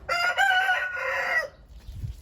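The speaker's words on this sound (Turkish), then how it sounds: "Tavukları korkutuyor." A rooster in a backyard chicken coop crows close and loud for about a second and a half, and faint low clucks follow.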